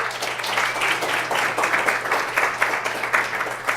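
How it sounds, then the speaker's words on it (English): A roomful of people breaks into warm, steady applause at an education event, the clapping dense and continuous with a few louder bursts, close and even throughout. "Should we give her a round of applause?"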